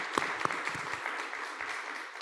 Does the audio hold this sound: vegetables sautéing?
no